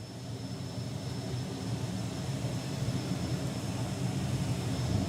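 A jet-powered drag racer with an afterburner, Martin Hill's Fire Force 3, at a FIA FIM drag racing main event, roars as a steady, loud, broad jet rumble that builds slightly over five seconds, heard from nearby.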